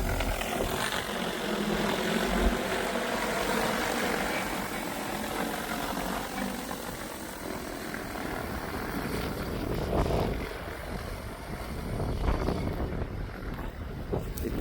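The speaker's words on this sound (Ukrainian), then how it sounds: "По периметру розкидав, автоматично повертається на місце, звідки і взлітав." An agricultural drone fitted with an 80-litre spreading system casts rodenticide along the edge of a no-till rapeseed field, a steady droning engine-like whir that swells and fades under buffeting wind.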